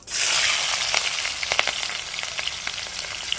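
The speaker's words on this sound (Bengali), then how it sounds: "এবার দিয়ে দেবো পেঁয়াজ কুচি" Two large chopped onions and three slit green chillies hitting the pan together burst into a bright, loud sizzle that settles into steady frying with a few stirring clicks. No speech.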